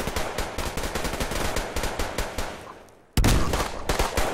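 Shotguns fire in the video game Survarium: a dense run of rapid, loud blasts, followed by a brief lull that ends in one heavy, abrupt shot and more firing.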